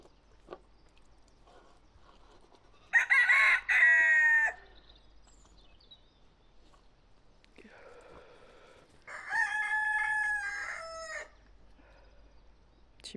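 Two crowing roosters call one after another, several seconds apart and at moderate distance, with quiet stretches around them.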